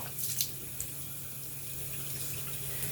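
Running tap water splashes gently at a sink while a face is rinsed, a soft steady stream with a few brief splashes, fairly quiet and with no voices.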